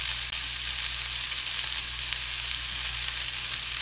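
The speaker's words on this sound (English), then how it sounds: "There's some nice butter melting over here." Butter melts and sizzles loudly in a hot pan alongside smash burger patties, a constant close frying hiss with one brief knock at the start and no voices.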